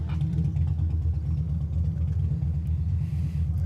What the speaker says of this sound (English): There's some kind of a loud, is it a motorcycle or a car?